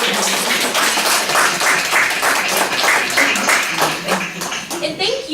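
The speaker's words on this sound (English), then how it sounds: "And a big round of applause." A workshop audience claps loudly and steadily for the whole stretch, a close, dense round of applause with some cheering mixed in.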